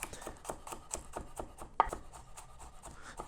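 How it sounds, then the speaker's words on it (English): Knife chopping garlic thin on a cutting board for steak pizzaiola, a steady run of light, close taps with one sharper knock partway through, no talking. "I want to chop this 2 garlic, because this 2 garlic, it got to be thin"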